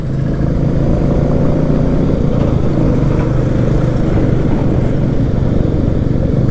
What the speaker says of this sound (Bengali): তারপরে চালিয়ে যাচ্ছি বাইক